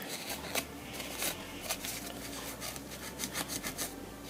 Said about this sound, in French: On frotte légèrement pour qu'elle soit bien propre